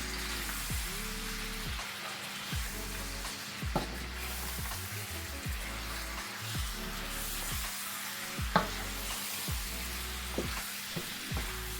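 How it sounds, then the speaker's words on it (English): Chicken wings are stirred into sizzling curry in a pot; a steady fry hiss runs under repeated scraping stirs that come in an irregular rhythm, close and moderately loud, with no talking. "All our wings we mix inside the curry."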